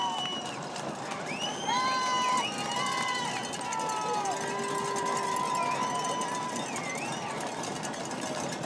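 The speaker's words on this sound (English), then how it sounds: "A lot of stomping in the stands on the Red Mountain side and a lot of noise from the student section from Desert Ridge." Crowd noise fills the stands at a varsity high school football game between Red Mountain and Desert Ridge, a steady roar of cheering and whistling from the fans and student section, continuous and fairly loud throughout.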